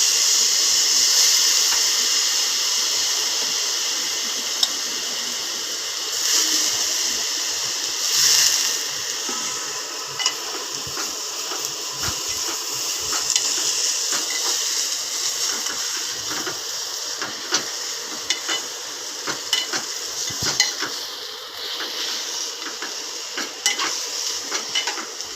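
Moth bean sprouts sizzle in a hot pan with red chilli powder, a bright continuous frying hiss broken by scattered clinks and scrapes of a spoon stirring against the metal, no voices.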